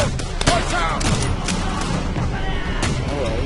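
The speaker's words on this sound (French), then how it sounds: "Tire de couverture." Continuous covering gunfire in the WWII shooter game Call of Duty: World at War, a dense battle mix of rapid shots and booms from near and far over the whole stretch.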